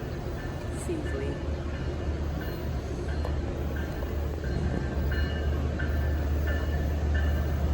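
A Long Island Rail Road train passes through Babylon station under warm, cloudy skies, giving a loud, steady rumble of wheels and cars that holds for the whole stretch with no break.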